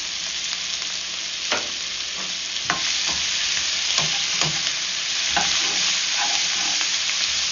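Squirrel meat and wild mushrooms sizzle steadily in a pan, with repeated scraping stirs knocking against the pan every second or so over the constant frying hiss.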